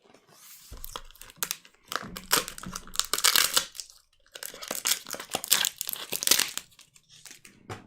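Tearing open a heavily taped mailed package, with crinkling, ripping and crunching of tape and packaging in close, irregular bursts, a short pause midway, then more tearing, with no talking.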